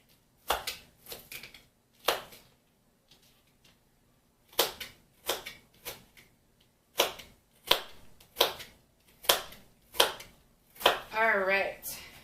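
Onions being chopped with a knife on a cutting board in a home kitchen: sharp, evenly spaced chopping strokes in short bursts with brief pauses, close and fairly loud, with a short spoken moment near the end.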